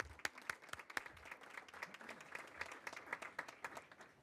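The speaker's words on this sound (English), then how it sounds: "I'd like to give a round of applause to our young leaders" A small audience at a school board meeting claps for young leaders, a sparse, faint patter of individual hand claps with distinct separate slaps rather than a dense roar.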